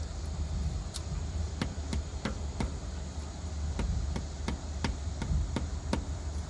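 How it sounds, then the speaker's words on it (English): A mallet tapping a hex bit in the front differential of a 2005–2012 Nissan Pathfinder, Xterra or Frontier: a dozen light, sharp taps in uneven rhythm over a steady background hum. "I'm just going to take my mallet, just give it a couple easy taps"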